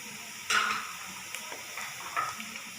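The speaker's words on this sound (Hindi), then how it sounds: "इसको अच्छी तरह भून लेना ताकि मसाला हमारा तैयार हो जाए" Masala of fried ginger, garlic, chilli, coriander, turmeric and salt with tomato sizzles in a pan, with a few spatula scrapes and clinks standing out over a steady frying hiss.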